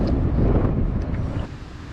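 Wind buffeting the microphone while kayak fishing on open water, a low, rumbling roar that gusts and then eases slightly, with no voices.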